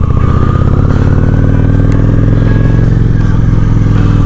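A Honda Shadow 750 ACE motorcycle rolls through a front yard, its engine a loud, steady, close rumble with a faint rattling clatter over it and no pauses.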